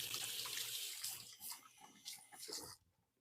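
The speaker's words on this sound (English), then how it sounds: "I'm going to give my hands a quick rinse." Water runs from a kitchen tap as hands are rinsed beneath it, a steady close splashing hiss with shifting bursts as the hands move, stopping abruptly near the end.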